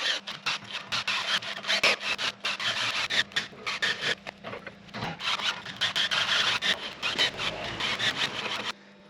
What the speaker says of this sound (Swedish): Så vi tar bara en försänkare och fixar till kanterna på hålen lite.